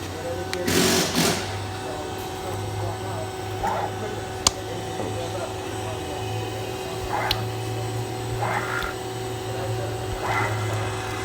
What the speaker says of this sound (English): now I have this vacuum pump is running right now.